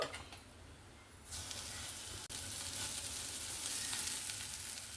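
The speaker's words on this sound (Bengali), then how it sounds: "সমস্ত মাছগুলোকে ভেজে নেব।" Bombil fish in a semolina rawa coating frying in hot oil, a steady loud sizzle that jumps up sharply about a second in and keeps hissing alone to the end, with one brief dropout midway.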